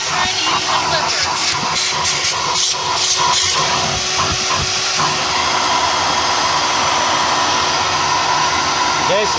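A Ryobi One+ battery-powered cordless vacuum cleaner runs steadily up close, a continuous airy whine and hiss of suction that holds for the whole stretch, with a faint voice briefly underneath.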